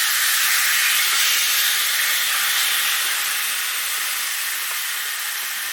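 Sirloin steak sizzling as it pan-sears, a loud, steady, close hiss of fat and juices that fades slightly over several seconds, with no voices.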